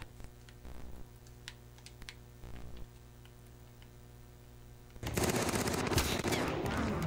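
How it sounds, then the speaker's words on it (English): Video game gunfire, first as scattered faint shots and short rattling bursts in the distance, then a heavy sustained barrage of rapid automatic fire that erupts and stays loud for the last two seconds. "Who the hell just shot me?"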